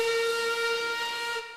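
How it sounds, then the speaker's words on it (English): Steam engine whistle blown long and loud, a single sustained bright tone holding steady for over a second before fading slightly at the end. "Peter Sam whistled as long and as loudly as he could."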